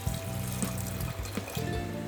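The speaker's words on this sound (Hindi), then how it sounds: "ये हम गर्म पानी ऐड कर रहे हैं।" Hot water pours into a pressure cooker holding misal pav ingredients with turmeric and salt, a steady soft trickle under a low hum, close and fairly quiet.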